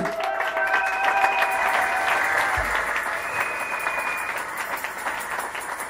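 A church congregation claps and cheers together at a worship service, steady massed clapping with raised voices and some sustained tones ringing over it, fairly loud and continuous.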